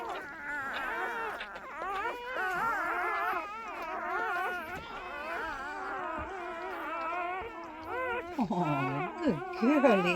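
Newborn puppies from a freshly delivered litter of eight whimper and whine near the mother dog, with wavering high cries overlapping continuously throughout and growing louder toward the end.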